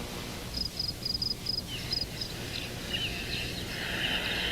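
Quiet, faint cricket chirps repeat in short even bursts over a low background hum, fading into softer scattered trills toward the end.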